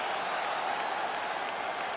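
A virtual arena crowd in the video game UFC 5 cheers at the end of a full-distance fight, producing a steady, dense roar of applause and noise throughout.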